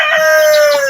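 A bossy hen among backyard chickens gives a loud, close, drawn-out call, a single tonal squawk filling the whole moment.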